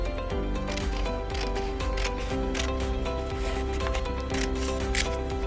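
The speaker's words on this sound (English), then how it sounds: "So now what you're going to do is just cut that extra piece off." Scissors snip through a folded paper square while cutting a snowflake, giving a few short, crisp cuts spread across the clip under steady background music.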